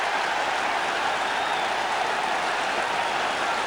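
A rugby stadium crowd at a Wales v Scotland Five Nations match roars and applauds after a try, a steady, dense wash of cheering heard from a distance.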